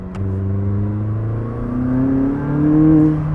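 McLaren 600LT supercar launching in sport mode, its engine rising in rising tonal sweeps as it accelerates, loud and close, with a brief dip between gears and no talk.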